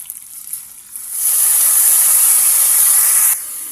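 Ridge gourd peel dropped into hot oil with tempering spices for a ridge gourd, coriander and tomato chutney: after a quiet second a loud, steady sizzling hiss bursts up and holds, easing off abruptly near the end.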